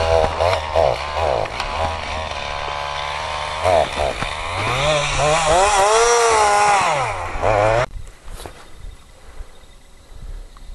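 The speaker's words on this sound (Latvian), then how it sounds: "Janka ārdās ar zāģi, mēģina malku ugunskuram dabūt." A chainsaw cuts firewood for an evening campfire by a lakeshore, revving loudly with rising and falling pitch as it bites into the wood, then suddenly stops, leaving quiet outdoor ambience.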